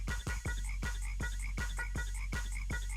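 A frog creature in the video game No Man's Sky croaks in a regular rhythm, roughly eight evenly spaced croaks over a low steady hum, clear and alone.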